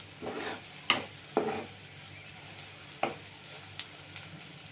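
Ivy gourd fry with chilli powder is stirred in a hot pan, a soft background sizzle broken by several sharp scraping strokes of the spoon against the pan, spaced irregularly, with no talk.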